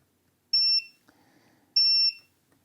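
Multimeter continuity beeps while testing capacitors on a PlayStation 5 board: two clear, high electronic tones, each lasting about a quarter second, separated by a pause with faint handling noise.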